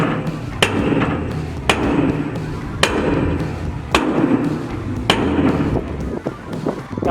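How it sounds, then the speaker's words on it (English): Metal hammer blows strike a pipe set against a boat's rudder bearing to drive it out, giving about six sharp, loud, ringing impacts at an uneven pace of roughly one per second, with no talking. "we basically just put a pipe down on top of the bearing and just belt the crap out of it until it comes out"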